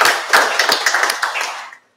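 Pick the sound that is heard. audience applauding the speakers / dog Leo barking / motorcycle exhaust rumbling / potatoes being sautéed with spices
audience applauding the speakers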